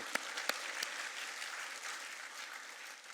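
A church congregation at a Burmese Sunday worship service applauds in a brief, moderately loud burst of mixed clapping, with a few sharp claps at the start that settle into a continuous patter.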